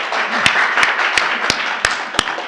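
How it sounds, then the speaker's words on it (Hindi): An audience at a poetry recital claps along at a slow, even pace, with sharp distinct claps roughly every third of a second over a murmuring crowd. "थोड़ा बहुत तालियां बजा दो"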